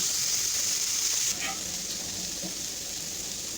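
Bitter gourd and potatoes frying in a pan give a steady, close sizzle that eases slightly partway through, with a faint stir or two underneath.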